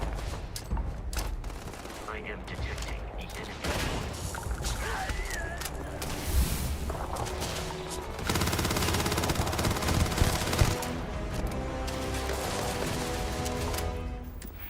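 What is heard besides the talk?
gunfire in a video game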